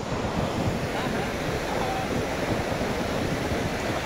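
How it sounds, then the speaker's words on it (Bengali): A waterfall near Rishi Khola in Sikkim rushes in a dense, unbroken roar that fills the whole clip, loud and steady with some wind buffeting the microphone. "ঝর্ণার আওয়াজ শুনতে পাচ্ছ?"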